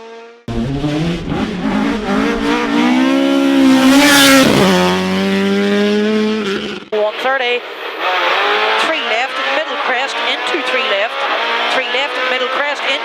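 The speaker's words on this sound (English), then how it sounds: "It's okay, we're locking up at the front wheel there." A rally car on a special stage brakes hard and locks its front wheel, a loud engine note dropping and revving close by, with a commentator talking over it.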